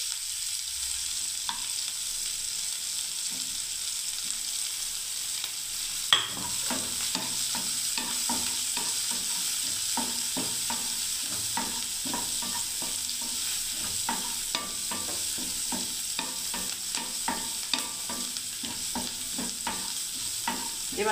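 Green chillies fry in a pan, a quiet start giving way to a steady hiss with frequent scraping and tapping of a spatula as they are stirred.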